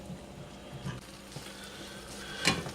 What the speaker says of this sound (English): I'm letting this simmer a little bit so we can see how thick it is with the flour